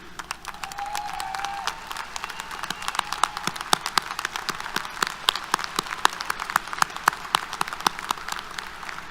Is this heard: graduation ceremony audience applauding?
yes